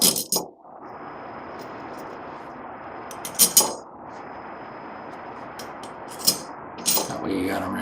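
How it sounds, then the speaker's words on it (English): Small metal screws clink and clatter against the metal cage of a coolant proportioning pump as they are set in place, with several sharp taps and scrapes over a steady background hiss. "And then you can go ahead and put your screws in."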